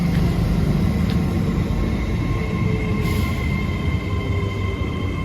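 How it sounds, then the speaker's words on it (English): A Great Western Railway Class 802 train draws into Didcot Parkway station, a steady low rumble of wheels and traction with faint high whines, fairly close and continuous, no voices. "On the approach now is the 1657 Great Western Railway service from Bristol Temple Meads to London Paddington, which is 802 101."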